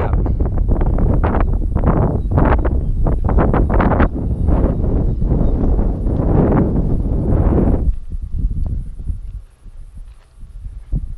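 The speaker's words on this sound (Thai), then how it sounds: "ลมจะค่อนข้างแรงหน่อยนะครับ" Strong wind buffets the microphone on a hilltop above old bunkers at Pilok, a steady roaring rumble that drops off near the end, with a voice faintly underneath.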